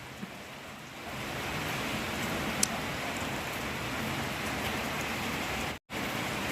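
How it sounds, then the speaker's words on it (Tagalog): Steady afternoon rain falls continuously, a dense even hiss that swells after the first second and holds, with one brief dropout near the end. "Araw-araw ang ulan sa hapon."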